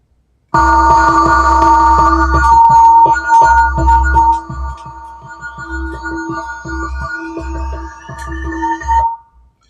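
A bright, bell-like tone repeats in a steady rhythmic loop over a deep bass pulse, loud and close, forming a busy electronic groove made on Ableton Push 3 with Ableton 12.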